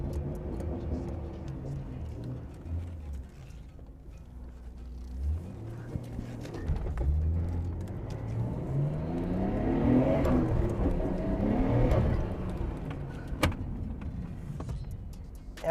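A Nissan Skyline GT-R R34 V-Spec engine cranks, catches and settles into a lumpy idle, then revs rise and fall in several swells before easing back, heard close with light ticking.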